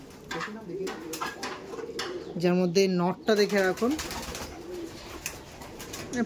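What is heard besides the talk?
pigeons cooing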